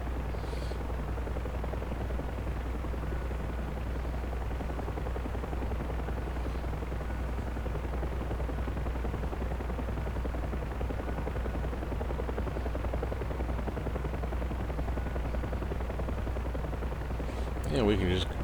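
Huey helicopter in the flight game DCS World, a steady low rotor thrum and engine drone throughout, with a brief louder burst near the end.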